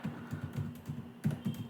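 Soft computer keyboard typing while code is entered in a Python notebook: a quick, fairly even run of about ten light keystroke clicks, close and quiet.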